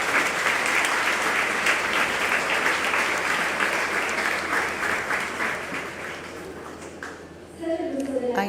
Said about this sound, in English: A big applause.